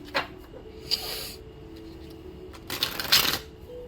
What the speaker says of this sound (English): This is a great shuffle